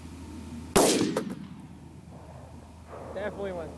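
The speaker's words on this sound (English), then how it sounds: "this is the 308 Winchester." A .308 Winchester rifle fires a single loud, sharp shot into a PlayStation 2 outdoors, a sudden blast that rings off into wind noise, followed by people talking quietly.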